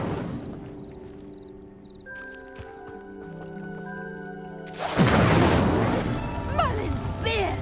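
A fire spell cast in a Harry Potter video game ignites pyres with a sudden loud whooshing burst of flame that roars and crackles for a few seconds, following a stretch of calm game music.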